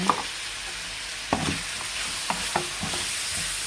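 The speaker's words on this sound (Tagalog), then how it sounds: "Ginigisa mo siya sa toyo. And then, isunod mo si gulay. Haluin mo." Vegetables with red bell pepper and corn are stirred as they sauté in soy sauce, with a steady sizzle under several sharp scrapes and knocks of a spoon against the pan.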